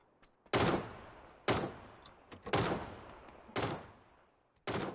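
PUBG gunfire sounds as several sharp, loud shots or short bursts at irregular intervals, each ringing out briefly before fading.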